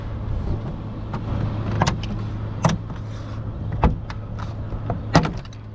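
Interior side panels being pried off inside a Scion tC, with a series of sharp plastic clicks and snaps spaced a second or so apart over a low steady hum, close up and with no talking.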